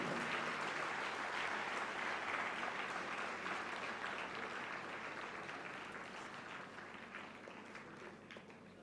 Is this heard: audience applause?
yes